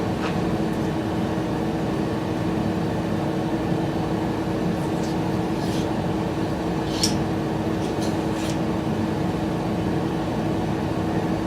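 A blender whirs steadily as it purees fresh aloe vera gel scooped from the leaf. The motor drone is loud and unbroken for the whole stretch, with no voices over it.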